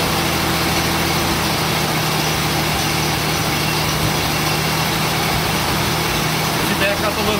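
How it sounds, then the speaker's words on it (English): A 1947 Dodge W Series truck engine idles steadily and smoothly after a cold start, a continuous low rumble with a faint high whine running throughout. "you can see how smooth the engine's running"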